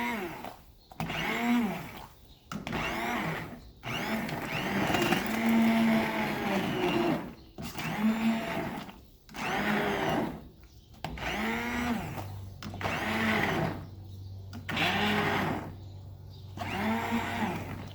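An immersion blender whirs in repeated bursts, pausing briefly between pulses, its motor pitch wavering as it churns through thick tomato marinara sauce.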